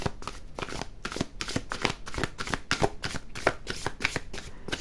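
Oracle cards shuffled by hand in quick, regular riffling bursts, a crisp papery flutter repeating steadily and close throughout with no talking.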